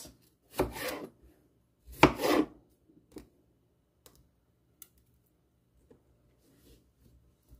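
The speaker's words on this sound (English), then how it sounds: "Slice it into sticks." A knife slices a vegetable into sticks on a cutting board, with two distinct close chopping strokes followed by a few faint, sparse taps in an otherwise quiet kitchen.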